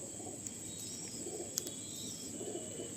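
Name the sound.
pigeon cooing while being handled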